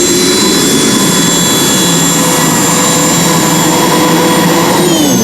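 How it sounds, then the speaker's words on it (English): A tractor-pulling machine powered by a Turbomeca Turbo 3 turbine from a French helicopter screams at full power, a loud sustained jet-like whine with steady high tones over a roaring rush. "His Turbo Mecha Turbo 3 turbine, taken from a French helicopter."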